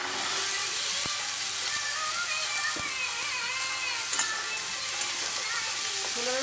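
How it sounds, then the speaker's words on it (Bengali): Chickpeas sizzle steadily in a pan with spices for chole, broadband frying hiss throughout with a few soft clicks and scrapes of stirring, no voices. "ছোলার সঙ্গে মশলাটাকে ভালো করে কষিয়ে নেব।"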